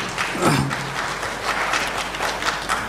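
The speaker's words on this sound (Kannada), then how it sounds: "ಸಮಸ್ತ ಬಂಧುಗಳು ಚಪ್ಪಾಳೆ ತಟ್ಟಿ ಅಭಿನಂದನೆಯನ್ನು ಸಲ್ಲಿಸ್ತಕ್ಕಂಥದ್ದು" At a Kannada book event for a novel, an audience applauds, and the steady clapping carries on for a few seconds through a hall, with a brief vocal sound near the start.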